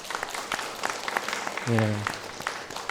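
Church congregation applauds in welcome at a Sunday service, a steady patter of many hands clapping close by, with a brief spoken reply heard over it partway through.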